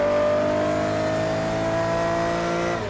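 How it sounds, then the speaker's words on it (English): A Porsche 917 racing car's flat-12 engine holds a loud, steady high-pitched drone at near-constant revs throughout, close by with no talk. "Hear that flat 12 engine go."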